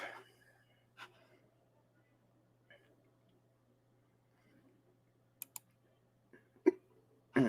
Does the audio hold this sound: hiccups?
yes